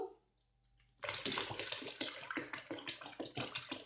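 Water is poured into a mixture. After a second of near silence, a close, splashing gush starts abruptly and continues unbroken to the end.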